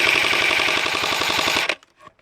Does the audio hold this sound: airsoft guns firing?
yes